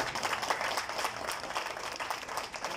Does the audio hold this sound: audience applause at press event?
yes